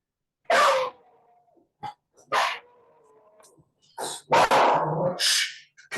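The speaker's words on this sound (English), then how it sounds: "Sorry, it's my dog." A pet dog barks loudly near an online class, sharp separate barks in bursts with short gaps, the last ones rough and run together.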